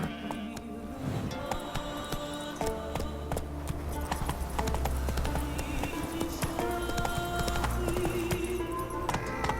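Roach, Geralt's horse in The Witcher video game, galloping: rapid rhythmic hoofbeats pound steadily and loudly up close, layered with game music, wind and clattering effects throughout.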